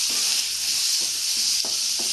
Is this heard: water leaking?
no